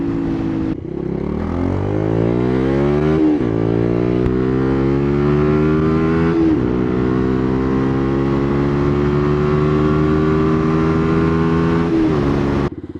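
A rare sportbike motorcycle ridden fast, its engine loud and close, climbing steadily through several gears with clear upshift breaks and a sustained high-revving whine, no talk.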